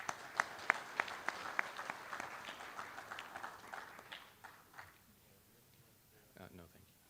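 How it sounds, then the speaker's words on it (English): Audience applause for Brownsburg Post 331 at a general session of an annual convention, opening with sharp clapping that thins out and fades over several seconds, with a brief murmur near the end. "Let's give Post 331 another round of applause"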